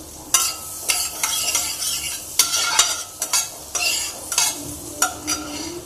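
Butter melting into hot oil in a pan for butter chicken, sizzling loudly and close while a spoon scrapes and knocks against the pan in repeated bursts; no one speaks.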